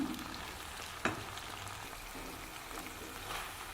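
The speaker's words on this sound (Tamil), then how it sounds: "கொத்தமல்லி தலை சேர்த்து நல்லா வதக்கி வச்சுருவோம்" Fresh coriander sautéing with a chicken gravy base in a pan, a soft continuous frying sizzle with one brief sharp clink of a spoon early on, quiet and close, without talk.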